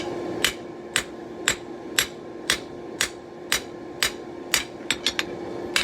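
A hammer forges the edge bevel of a Roman gladius blade, giving a steady series of sharp, ringing metallic strikes at an even rhythm, with a quicker cluster of blows near the end over a constant background hum.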